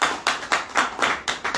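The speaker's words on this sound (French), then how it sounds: "Lui, je vous demande de l'applaudir très très fort" Audience applauding Samuel Bissiongol at a Cameroonian community gathering in France, heard as a short, close burst of rhythmic clapping in steady pulses of roughly four claps per second, with no voices over it.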